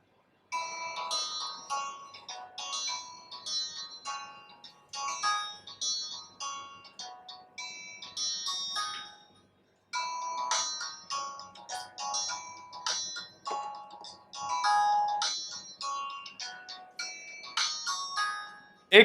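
A ringtone plays loudly through the speaker of an Infinix Hot 6 Pro phone, a busy melodic tune of bright chiming notes that runs continuously with one short break midway, no voice over it.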